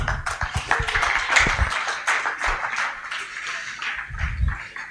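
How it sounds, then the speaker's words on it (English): Audience at a conference clapping for a presenting group: scattered, uneven handclaps building and fading, moderately close, with brief pauses and a second burst near the end. "We can clap for those who have presented their ideas"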